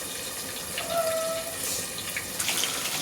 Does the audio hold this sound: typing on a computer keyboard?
no